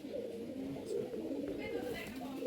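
Local Giribaj pigeons from Rajshahi cooing softly in low, rolling repeated coos over a constant murmur of background noise.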